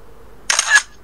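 A goat horn item in a modded Minecraft game retextured as a camera, giving a single short, sharp camera-shutter click and whir, close and alone against quiet.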